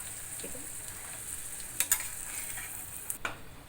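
Peanuts fry in a pan for kanda poha, a soft continuous sizzle with a few brief clinks and scrapes of a stirring utensil against the pan.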